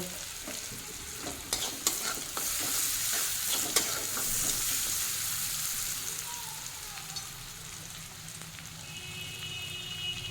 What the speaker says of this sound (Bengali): পেঁয়াজটা ভালোভাবে ভেজে নেব। ফ্লেমটা এখন হাইতে আছে, এখন ফ্লেমটাকে আমি একটু লোতে করে দেব।